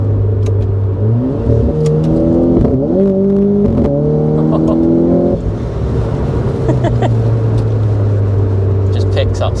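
A 257bhp track-spec Renault Clio RS accelerating hard through the gears, its engine note climbing and dropping with each shift, loud from inside the cabin, with people talking over it.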